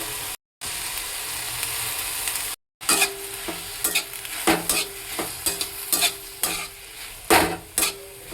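Carrots and corn cooking in a pan for pasta, a close, steady sizzle broken by rhythmic spatula scrapes and clinks against the pan, with two brief silent gaps near the start.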